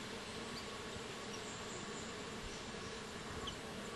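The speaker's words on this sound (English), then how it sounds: "See, look at all the bees." Dense, steady buzzing of many bees swarming in a flowering eucalyptus tree in Australia, a continuous droning hum without pause.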